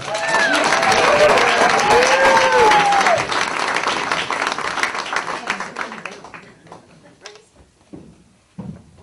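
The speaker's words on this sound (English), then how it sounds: "A big round of applause for Miss Sharon Dahl" Comedy club crowd at a stand-up show applauds and cheers loudly as a comedian is introduced, with whoops over the clapping before it thins out into scattered claps and quiet.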